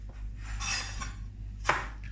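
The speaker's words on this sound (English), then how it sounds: "So I'm just going to very finely slice these onions." A knife finely slicing onions on a board in a home kitchen, a few soft, quiet cutting strokes and light clinks spaced unevenly with no voices.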